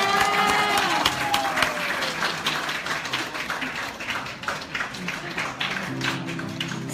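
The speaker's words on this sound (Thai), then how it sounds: "สงสัยมีเสียงปรบมือเบาไปนะครับ" Crowd applause at an outdoor Thai festival concert in Tokyo, a light, scattered clapping with some cheering and voices mixed in, and music notes entering near the end.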